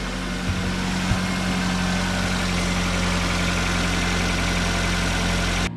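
A Nissan car engine idling as it warms up after a valve cover gasket replacement, giving a loud, steady, continuous hum with a low rumble that barely changes throughout.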